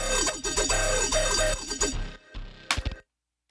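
Layered synth bass in an electronic track, with deep sub and mid bass under the main bass, pulses in a short rhythmic phrase with clicky percussive accents, then cuts off abruptly into silence.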